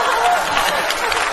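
Studio audience applause with crowd noise at a Spring Festival Gala comedy sketch, a steady broadband clatter of clapping over about a second and a half.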